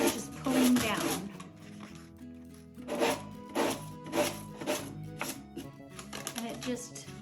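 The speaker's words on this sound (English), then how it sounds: "now we're going to sand these edges off, and basically just a sanding block, and I'm going to go just pulling down." A sanding block rubs down the paper edges of a decoupage piece in a series of short, scratchy downward strokes, close and moderately loud, with background music audible throughout.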